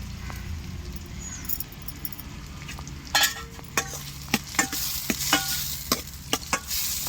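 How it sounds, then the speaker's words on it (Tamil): Prawns and onions sauté together in a hot pan for prawn thokku, a steady close sizzle with a spoon scraping and tapping the pan in irregular knocks. "எல்லாத்தையும் ஒன்றா வதக்கிடலாம் கைஸ்"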